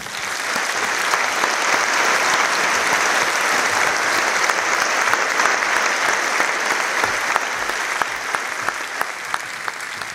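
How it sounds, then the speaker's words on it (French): A large audience at an eloquence competition final claps steadily for about ten seconds, a dense, even wash of applause with a few sharper claps near the end. "Sous une tribune d'applaudissements, je vous demande d'accueillir Elisabeth Martichoux."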